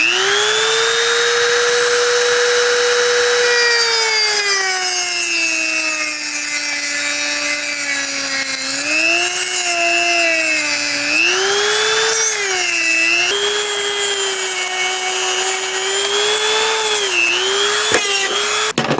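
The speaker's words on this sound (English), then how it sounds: "So I'm going to try my Dremel today." A Dremel rotary tool cuts lengthwise through a rubber fuel line from a supercharged Ford Ranger, a loud, close high-pitched whine that sags and recovers in pitch as the bit loads and frees, running continuously.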